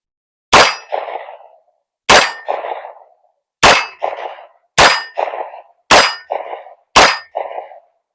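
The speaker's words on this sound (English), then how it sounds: "I'll just shoot the metal a few times so you're gonna get an understanding of it" A PSA PX-9 AR pistol fires six evenly spaced shots at a steel target. Each loud crack is followed by a bright metallic clang as the round strikes the plate.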